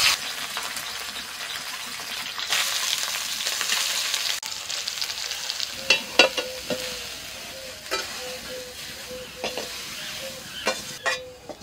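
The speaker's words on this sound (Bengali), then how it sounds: "এবার সয়াবিন থেকে একটু জলটাকে বের করে তেলের মধ্যে দিয়ে দিচ্ছি" Soybean chunks fry in hot oil in a kadai with a steady close sizzle. Scattered clinks and scrapes of stirring punctuate it in the second half, and there is no talk.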